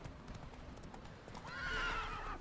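Hooves clip-clop in a quick rhythm from a horse in the video game The Witcher 3, then a loud, wavering whinny rises over them near the end, with no talking.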